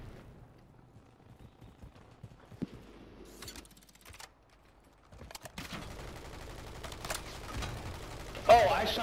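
Gunfire in Warzone, scattered and fairly quiet, with sparse shots and short bursts breaking through game ambience, turning denser and louder toward the end.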